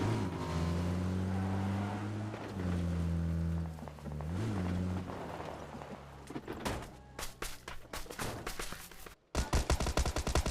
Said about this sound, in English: So some shots being fired by team number 3 against the other team.